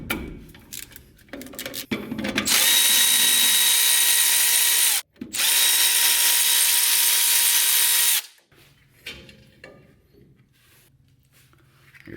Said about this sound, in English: Then I'm going to pull these bolts off that are on the back side of here.